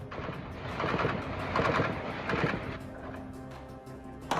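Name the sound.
continuous gunfire in a shootout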